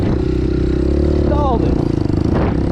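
A Honda Hawk 250 motorcycle engine stalls; a steady, loud, close mid-pitched engine drone runs throughout with a slight sputtering unevenness toward the end, and a voice talks briefly over it.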